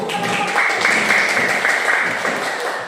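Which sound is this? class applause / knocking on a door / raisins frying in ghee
class applause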